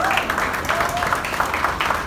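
A college event audience breaks into applause, a diffuse spread of clapping heard at moderate level with a voice carrying over it.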